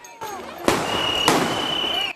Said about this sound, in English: Protesters gathering at the scene, setting off fireworks and throwing rocks at police.